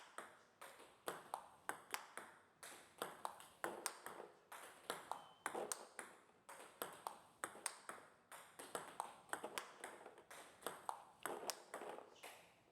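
Table tennis loop shots, the racket brushing upward across the ball, make a steady run of crisp, evenly spaced pings and taps, about two per second, close and clear with no talking.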